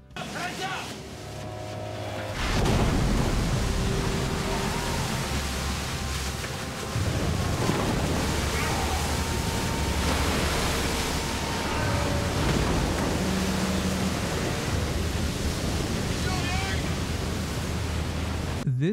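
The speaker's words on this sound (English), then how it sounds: "This was a 55-foot wave that soaked the entire boat." A huge ocean wave crashes over a crab fishing boat at sea, a sudden loud roaring wash of water that keeps surging and hissing across the deck, with shouts and strained noises mixed into the noise.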